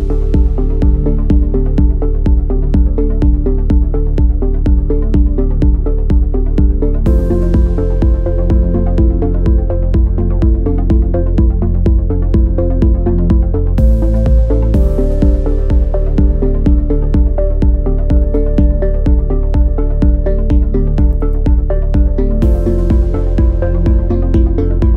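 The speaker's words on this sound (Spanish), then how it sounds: "este arpegio suena así" A dense progressive-house synth arpeggio from Ableton's arpeggiator cycles rapidly over a sustained low bass, loud and continuous, with the pattern shifting every few seconds.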